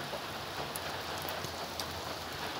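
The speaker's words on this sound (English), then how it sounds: "I don't know if you can see the rain" Steady rain falls throughout, a dense, even hiss of drops pattering on a surface with no voices, moderately loud and continuous for the whole stretch.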